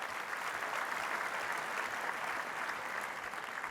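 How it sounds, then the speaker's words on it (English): A banquet hall crowd at an awards dinner gives steady, even applause, many hands clapping at once with no break for nearly four seconds. "Let's give them a round of applause."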